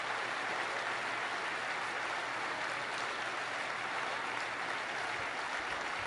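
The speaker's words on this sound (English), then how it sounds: "just want to give them another big round of applause" A crowd at the Google I/O 2012 conference claps steadily, a dense, even wash of applause that sounds somewhat distant and faint, with no talking.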